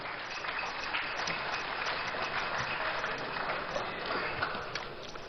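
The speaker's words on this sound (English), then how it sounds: "A round of applause for him." Audience applause fills a large university hall during a meeting with labour representatives, a steady dense clapping from a big crowd that holds evenly throughout at moderate, slightly distant loudness.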